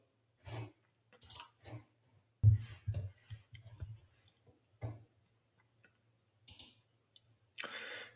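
A computer mouse clicks sharply several times, scattered and close, in an otherwise quiet room with a faint low hum.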